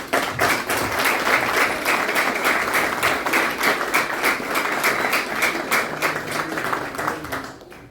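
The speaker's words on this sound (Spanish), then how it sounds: "pido un gran aplauso" Applause from the audience at a book presentation of "Historia, Fotografía y Guerra" at a cultural center, greeting the two young authors: loud, sustained clapping with a rhythmic pulse, tapering off at the very end.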